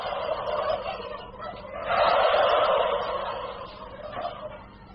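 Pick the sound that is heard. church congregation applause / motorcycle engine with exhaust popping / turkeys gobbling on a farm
turkeys gobbling on a farm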